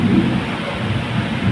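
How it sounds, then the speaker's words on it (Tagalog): Low, rumbling thunder rolls steadily with a rain-like hiss over it, a deep continuous rumble filling the short stretch without any voices. "Pag nakakarinig siya ng kulog, kinakabahan."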